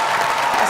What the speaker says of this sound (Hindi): सना के लिए खड़े हो जाओ तालियां